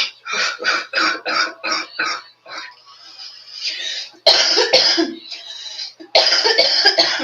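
Repeated harsh coughing in close succession, a rapid fit of hacking bursts followed by heavier, louder coughs with short wheezy pauses between them.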